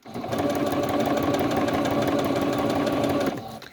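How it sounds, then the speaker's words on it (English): A sewing machine runs a straight stitch while making primitive journal tags, a loud, close, continuous rapid mechanical whir that starts abruptly and stops after about three seconds. "I'm going to try straight stitch and see what happens."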